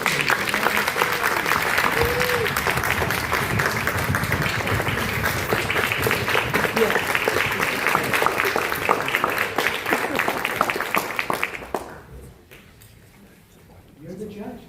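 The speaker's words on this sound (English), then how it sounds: "we should all stand up to cheer for him as I administer the oath" Audience applause and cheering fill a judge's oath ceremony in Los Angeles, steady dense clapping that runs strongly for about eleven seconds, then cuts off abruptly into near silence before a few faint sounds return.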